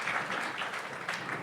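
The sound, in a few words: audience applause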